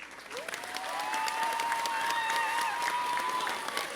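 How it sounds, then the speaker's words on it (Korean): Sustained audience applause for a reading expert's lecture at a youth festival talk concert, steady and fairly loud clapping swelling after a brief start and holding to the end, with a faint crowd murmur underneath. "다시 한번 우리 김승 독서 전문가님께 박수를 부탁드리겠습니다"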